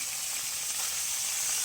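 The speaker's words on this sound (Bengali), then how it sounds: "মাছ ভাজা হচ্ছে" Fish frying in oil hisses with a continuous, even sizzle, bright and close, with no other sounds breaking through.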